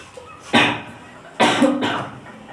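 A man who is ill coughs twice, two harsh, loud bursts about a second apart, close to the microphone in a quiet room.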